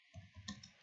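Two quick, faint computer mouse clicks land close together in a brief, quiet moment.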